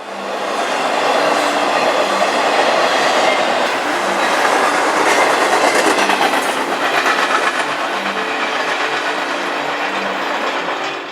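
Norfolk Southern 207, a trailer freight train, passes close by with loud, continuous rumbling and steady clickety-clack of wheels on rail joints, holding strong throughout before easing slightly at the end.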